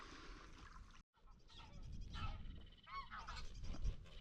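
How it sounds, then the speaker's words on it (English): Ducks on a river in Wroxham call out in a flurry of honking and quacking, several birds close by, overlapping in quick irregular bursts after a brief gap, with faint background noise. "I think I'm about to get mauled by a mob of ducks"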